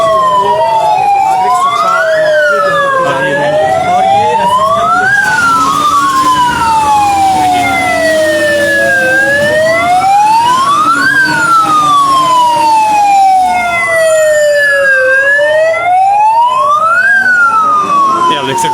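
A fire brigade siren wails loudly and steadily through a mock emergency drill in Shimla, its rising and falling cycles repeating close by for the whole stretch, with road vehicle rumble and crowd noise beneath.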